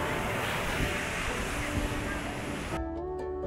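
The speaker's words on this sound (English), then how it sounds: "I hope you can hear me through all the waves crashing" Surf crashing on a beach in Danang, Vietnam, a steady, loud broadband wash of waves and wind that cuts off abruptly near the end, leaving faint tonal background sounds.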